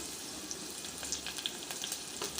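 Crushed garlic, green chillies and cumin sizzling in hot tempering oil for Maharashtrian cucumber pakode, a quiet steady crackle with small spitting pops close by.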